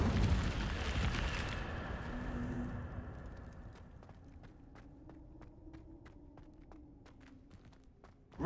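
Incendio fire spell cast in Hogwarts Legacy, a fiery whooshing burst at the start that fades into a low lingering rumble, followed by a series of light footsteps.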